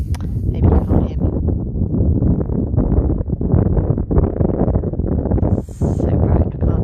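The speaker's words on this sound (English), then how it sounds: "It's very windy." Strong wind buffets the microphone on the exposed island coast of South Uist in the Outer Hebrides, a loud, continuous low roar with gusty swells that never lets up.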